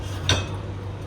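A single sharp clink of a spoon against a bowl while yogurt is added to flour and salt for dough, one brief metallic tap over a faint low hum, with no talking.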